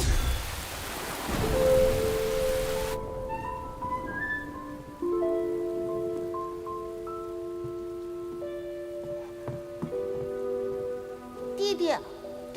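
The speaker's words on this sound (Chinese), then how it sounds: "我也不喜欢下雨天。" A heavy downpour hisses loudly at first with a low thunder rumble, then eases to softer rain beneath sustained musical tones.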